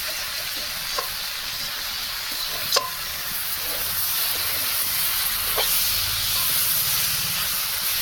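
Vegetables frying in a pan in a rural Indian home kitchen, a continuous loud sizzle and hiss with a few faint clinks of utensils, no voices.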